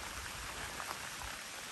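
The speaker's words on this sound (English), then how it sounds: "all night, it's been raining" Rain falls steadily on a Kodiak Canvas 10x10 canvas tent during a heavy overnight rainstorm in central Arizona, an even, soft patter of drops without any talking.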